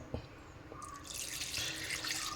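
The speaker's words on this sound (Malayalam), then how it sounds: "ഇനി ആവശ്യത്തിന് വെള്ളം ഒഴിച്ച് കൊടുക്കണം" Water pours steadily into a pot of tapioca being cooked for an African dish: a soft start with a few drips, then a rising, continuous splashing hiss that fills the rest of the moment, close by and alone.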